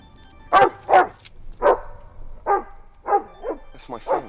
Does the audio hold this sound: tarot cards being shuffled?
no